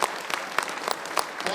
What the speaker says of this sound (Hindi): बजाना तो पड़ेगा, बजाइए जोरदार तालियां।